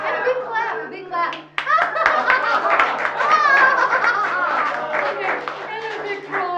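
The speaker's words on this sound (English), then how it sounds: "And a big clap." A group claps together loudly in a warm-up exercise at a community art talk, the clapping mixed with children's voices, giggles and chatter throughout.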